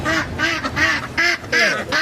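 Ducks being sold in front of a house in Riyadh, Saudi Arabia, quacking in a rapid series of loud, nasal calls close by, several bursts in quick succession.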